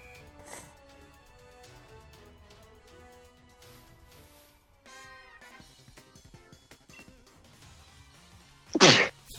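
A single sharp, loud sneeze bursts out near the end, over quiet video game background music from Pokémon Sword.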